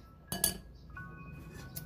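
Sliced bamboo shoots for Filipino kinilaw are set onto a plate, giving a sharp ceramic clink and a second knock close together, then softer scraping and a faint clink.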